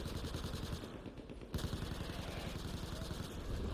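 Rapid automatic gunfire in the video game Battlefield 4, dense repeated shots in continuous bursts with a sharp restart partway through, loud and close.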